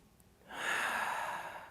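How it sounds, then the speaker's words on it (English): One slow, deep breath is drawn in and let out during a guided relaxation exercise, close and soft, rising after a brief quiet start and holding steady to the end. "Deep breath in."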